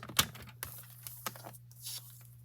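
Paper being cut for a handmade birthday card organizer, a few short crisp snips and rustles close by, with a brief sliding scrape near the end.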